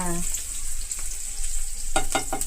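Boiled gongura leaves drop into a finished tempering of spices sizzling in a pan, giving a steady close frying hiss with several sharper bursts of crackle near the end.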